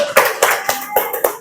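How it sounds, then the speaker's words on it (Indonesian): A classroom of students claps for a classmate in five even, distinct claps, close and fairly loud, with no talking. "Oke, Rakila, tepuk tangan untuk Rakila."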